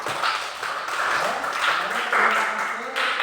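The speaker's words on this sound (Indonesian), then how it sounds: "tepuk tangan untuk kelompok 1." Classroom applause for a student group, scattered clapping and tapping from pupils, uneven and moderately loud, with voices mixed in.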